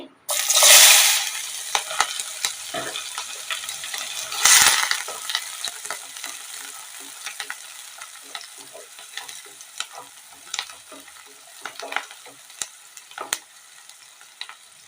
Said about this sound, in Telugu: ఇదే ఆయిల్లో ఒక పెద్ద సైజు ఉల్లిపాయ కట్ చేసేసుకొని ఇందులో వేసుకోండి